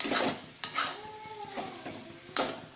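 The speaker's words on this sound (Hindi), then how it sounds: "धीमी आंच पर रखकर ऐसे इसे चम्मच हिलाते रहेंगे" A spoon scrapes and stirs thick coconut barfi mixture, Konkani nariyal wadi, in a pan over a low flame, with a few sharp metal clinks and soft scraping strokes close by, and no voices.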